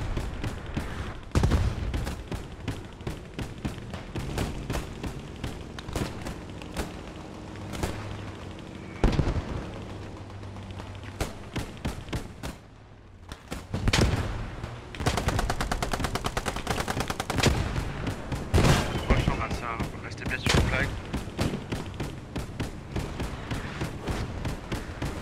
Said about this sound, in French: C'est un bombardement qu'on a pris là